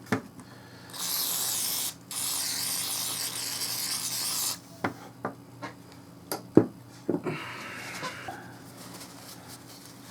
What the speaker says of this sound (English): Just use some WD-40 on this thing.